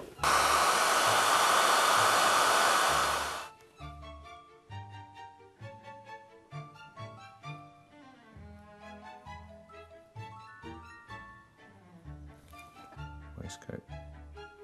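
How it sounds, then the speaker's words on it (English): A hairdryer blows loudly and steadily for about three seconds to dry paint on an illustration in an artist's studio, then cuts off, leaving a quieter room with someone talking. "what all my neighbours wonder what I do all day with a hairdryer"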